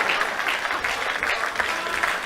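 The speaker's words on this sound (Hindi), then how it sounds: "जितनी आपने तालियां बजाई है" An audience claps steadily at a live comedy stage show, dense continuous applause filling the moment at close range with no clear voices over it.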